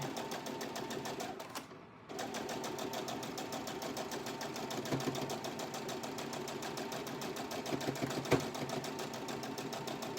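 A sewing machine stitches quilt pieces in a fast, steady mechanical whir with a short pause near the start, close and continuous, with light clicks over the running motor.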